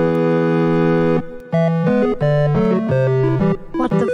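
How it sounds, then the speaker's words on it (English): Video game music plays from an office computer, a steady run of bright synthesized melodic notes with a sustained opening chord, loud and close with no talking. "You know I can hear the music on your computer going on"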